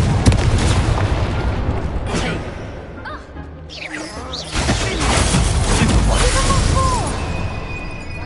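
Confringo fire-blast spell in Hogwarts Legacy, loud booming explosive bursts and crackling impacts in close succession over several seconds, with other spell effects mixed in and occasional voice.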